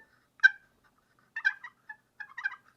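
Three short groups of sharp, high turkey clucks from a slate call, close and distinct with quiet gaps between them.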